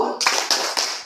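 A group of people claps hands in a rhythmic Tepuk chant at a school socialization event, four sharp claps in quick even succession.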